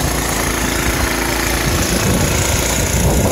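A snowblower engine runs steadily and loudly close by, a constant rough mechanical drone with wind noise and no talking.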